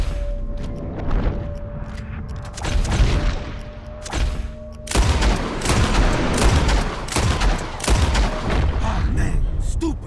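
Gunfire at flying birds in the Red Dead Redemption 2 video game, sharp shots cracking out in a burst after a steady tone, with repeated loud reports through the second half and a voice speaking over the action.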